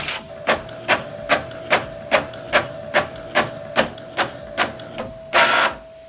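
An inkjet-style printer runs candle labels on a single sheet, producing a steady series of about a dozen evenly spaced mechanical clacks over a constant whine, ending in a longer burst as the sheet feeds out, close and alone.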